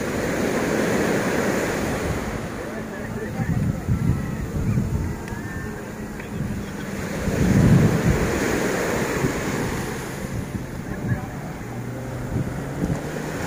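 Sea waves wash onto the beach at a hotel shore, a steady broadband roar with surges swelling around the middle, mixed with gusty wind buffeting the microphone.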